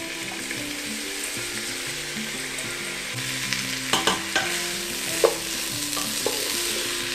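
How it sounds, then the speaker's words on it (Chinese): Raw washed rice stir-fried with fragrant seasonings in a pot for a vegan taro congee, giving a steady close sizzle with scraping stirs and a few louder knocks of the spatula toward the end. "将米稍微拌炒一下之后啊"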